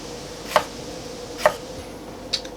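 Three crisp knife cuts through jalapeno chilies on a board, evenly spaced roughly a second apart, close and sharp over a quiet room.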